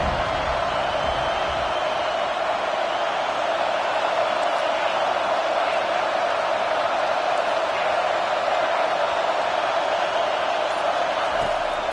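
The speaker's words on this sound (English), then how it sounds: "Decibels rising as the crowd gets behind this defense on third down" A dense, steady roar from a stadium crowd at a college football game between Colorado and Illinois, loud and sustained as fans rally behind the defense on third down.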